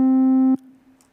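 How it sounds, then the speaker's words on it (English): A synthesized electronic tone holds steady and loud for about half a second, then cuts off abruptly, leaving only a faint lingering hum. "not just the basic sine wave"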